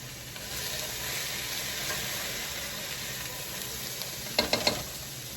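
Onions frying in a pan until translucent, a steady close sizzle with hiss, then a few louder stirring scrapes near the end; no talking.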